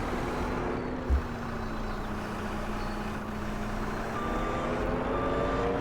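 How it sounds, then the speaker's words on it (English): A big, heavy skid steer rumbles and moves while reversing at a log landing, its steady engine drone joined by a tonal backup beeping, with a brief thump early on. "Nice having a big, heavy skid steer, able to pick up these large 7-meter sections of log."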